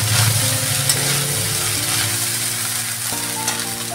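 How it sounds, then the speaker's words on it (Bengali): Fried rice is tossed and stirred in a hot pan, giving a steady sizzle with soft scraping under prominent background music. "ভালো করে নেড়ে নিচ্ছি।"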